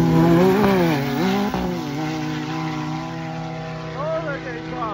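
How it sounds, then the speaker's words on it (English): A turbocharged Hanson Performance Pro R and a Bikeman-tuned Mav R race, their engines droning loudly and steadily with rising and falling revs as they pass near. A short clack occurs midway, and more engine notes climb toward the end. "We got a Hanson Performance Pro R with a turbo kit on it, and then we got this Mav R with Bikeman tune"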